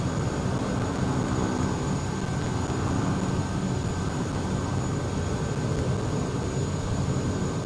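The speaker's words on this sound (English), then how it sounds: "Oh, you flying the Otter?" A de Havilland Otter propeller engine in Microsoft Flight Simulator drones steadily and loudly with a constant tonal whine, unbroken and without voices.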